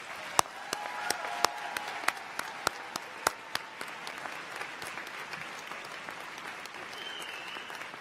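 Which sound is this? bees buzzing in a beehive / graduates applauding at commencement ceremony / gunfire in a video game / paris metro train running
graduates applauding at commencement ceremony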